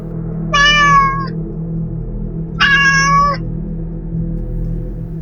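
Two separate cat meows, each about a second long, with a pause between them, heard over a steady low hum.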